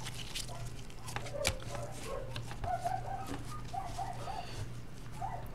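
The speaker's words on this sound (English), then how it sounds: "They need to shut those dogs up outside." Dogs bark faintly in the distance outside, sporadic yelps and barks over a low, steady indoor hum.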